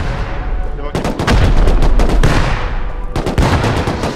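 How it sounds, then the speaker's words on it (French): Grenades go off during a raid on a wooden base in Rust, producing a loud, dense barrage of overlapping blasts and rapid cracking shots, briefly pausing before another close burst. "Oh, j'ai fait un carnage avec les grenades."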